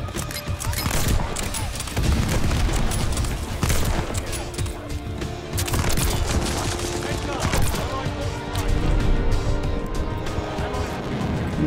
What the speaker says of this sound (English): V2 Rocket already falling.